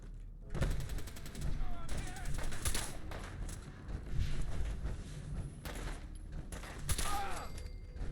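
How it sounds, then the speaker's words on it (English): Gunfire from the video game Fallout 4, with repeated bursts of shots across a noisy in-game battle, some near and some farther off, mixed with game sounds and some voice. "Who's shooting me?"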